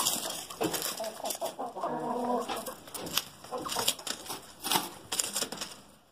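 Chickens and a rooster in a backyard coop on a small Brazilian farm, giving close, repeated clucks and squawks in uneven bursts, some busy overlapping calls, with no talking.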